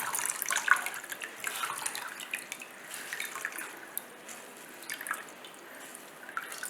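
Water from boiled milk curds drips and trickles faintly as the curds are squeezed for rasmalai, a soft, irregular patter of drops close by.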